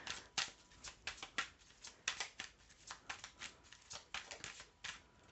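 Tarot cards are drawn and handled close up, three cards among a quick run of soft, papery flicks and taps in uneven rhythm, quiet and without talk.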